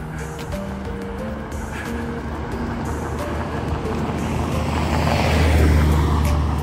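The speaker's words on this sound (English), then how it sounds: "Feels like there's more cars now." Cars passing along McKinley Avenue on an early-morning neighborhood walk: a steady wash of traffic noise that swells as a vehicle draws closer near the end, with no talking.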